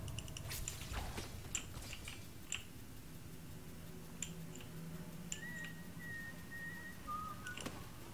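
A faint, thin whistle in the video game Dishonored plays a couple of short sustained notes near the end, over quiet ticking and clicking background noise.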